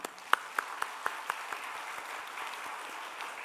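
A church congregation at a Sunday afternoon worship service applauding in a large hall, a few distinct claps at first that swell into steady, moderately distant applause.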